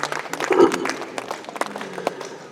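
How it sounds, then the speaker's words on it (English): Audience applause at a Christmas gathering at St. Xavier's College, Simdega: scattered, uneven clapping from a crowd with a few louder close claps, some voices murmuring underneath. "Let us appreciate them with a loud round of applause."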